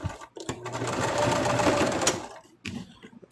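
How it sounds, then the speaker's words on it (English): A sewing machine stitches plush pieces in one loud, close run of about two seconds, with brief starts and stops before and after. "now I'm going to go ahead and sew this little section as well"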